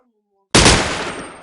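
A single sharp gunshot blast from a video game bursts in after near silence and decays with a noisy tail, loud and close.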